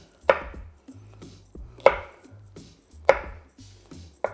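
Knife chopping through a pepper on a cutting board while beef skewers are prepared: three sharp, evenly spaced thuds on the board, close and loud, with faint handling in between and no talking.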